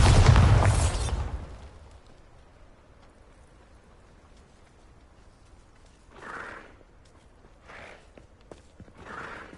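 A Bombarda blasting spell goes off in Hogwarts Legacy: one loud, close explosive burst at the start that quickly dies away, followed by quiet air and a few faint, short thuds later on.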